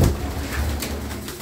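A pigeon coos softly in a loft, a low murmuring call over steady background noise, close by.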